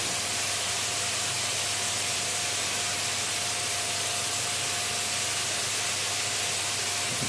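Steady close hiss of activator sprayed onto hydro dipping film, continuous and even throughout with a faint background hum.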